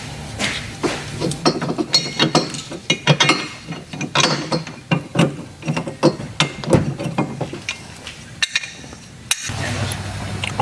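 Rapid ratchet clicking as 15mm upper strut mount bolts come off a 1996 Buick Regal, busy bursts of pawl ticks and metallic rattles close to the listener, with speech mixed in at times.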